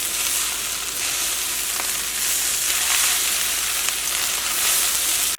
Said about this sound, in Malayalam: ആ റൈസൊക്കെ ഒന്ന് മൊരിയണ സൗണ്ട് കേൾക്കണില്ലേ?